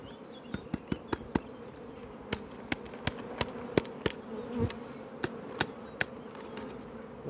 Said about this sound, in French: Des abeilles par terre, mais c'est pas grave